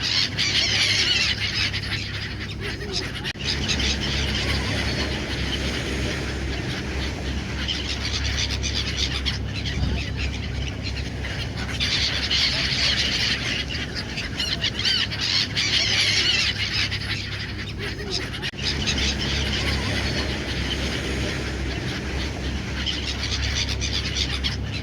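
A flock of seagulls calls at the beach in a continuous chorus of squealing cries over a steady low rumble of wind or surf, with louder bursts of calling rising and falling throughout.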